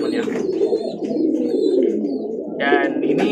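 Domestic pigeons, including a white bird descended from loft pigeons, coo in a steady low murmur close by, overlapping with a brighter burst of calls near the end.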